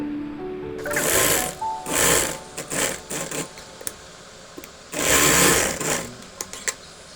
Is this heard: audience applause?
no